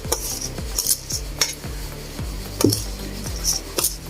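A utensil scrapes and scoops glutinous rice treated with lye for suman sa lihiya in a pot, a close repeated rhythm of soft rubbing strokes and light clinks against the pot, with no talk.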